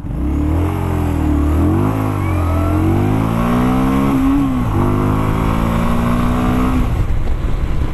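A 2018 Indian Scout Bobber motorcycle engine revs hard from standstill and climbs through several gears in quick succession, loud and close, before settling into a steady roar.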